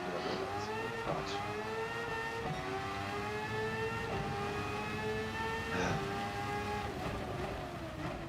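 A race car in Gran Turismo 7, running an online Nations Cup round at Spa, drives hard with a loud continuous engine whine that climbs and drops sharply through repeated gear shifts.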